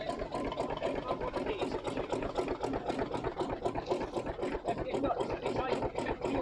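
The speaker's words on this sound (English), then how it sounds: "1903 roller, he sat here warming through" A 1903 steam roller idles while warming through, giving a steady, quiet, rapid rhythmic chuffing that runs throughout, with voices talking over it.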